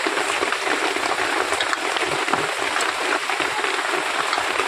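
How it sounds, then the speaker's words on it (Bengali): Rain falling outdoors on a rainy afternoon, a dense, steady hiss of drops that continues evenly with no pauses. "বাইরে বৃষ্টি হচ্ছে"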